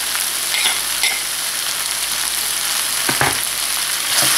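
Prawns, bagoong and softened squash frying in a pan for pinakbet, a steady, loud sizzle broken by a few scraping stirs and clacks of the utensil, with no talk.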